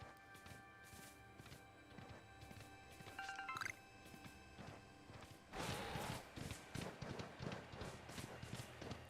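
Rhythmic hoof-like footsteps of a Wyrdeer mount galloping through the landscape in Pokemon Legends: Arceus, steady thudding strides with a brief chime-like pickup sound partway through and livelier, denser steps toward the end.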